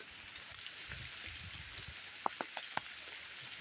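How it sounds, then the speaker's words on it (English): Steady rain falls on a rustic 1970s cabin in Tennessee, a soft continuous hiss with a few sharp, close drips or taps near the end. "It's a rainy day."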